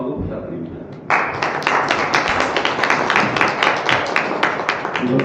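An audience at a commemorative symposium breaks into lively applause, dense overlapping claps starting suddenly after a brief quieter moment and continuing strongly throughout.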